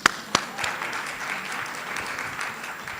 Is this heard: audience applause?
yes